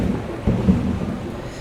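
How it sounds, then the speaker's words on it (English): Thunder in the video game Gone Home rumbles loud and near over steady rain, with a low crack around the middle and no voices. "Wow, the thunder is so loud."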